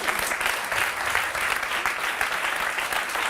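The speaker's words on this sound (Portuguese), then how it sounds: "Uma salva de palmas para o Rui." An audience bursts into steady, dense applause during a live comedy show, many hands clapping together at an even level throughout.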